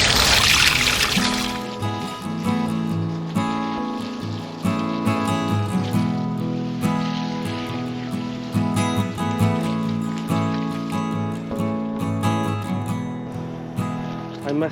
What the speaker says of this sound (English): So I'm going to give it all a good watering now, all through her plot